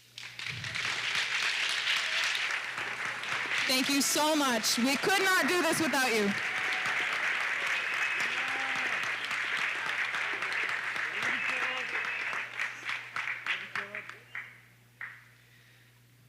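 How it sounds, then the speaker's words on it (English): Band students at a high school spring concert give their families a long, dense round of applause with some cheering. It swells and holds, then thins to scattered claps as someone speaks near the end. "students, please clap for your families"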